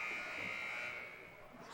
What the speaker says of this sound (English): The Bulldogs trying to beat the buzzer here at the end of the third.